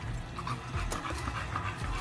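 A dog pants quietly and steadily in quick, breathy rhythm, close by, against soft background noise.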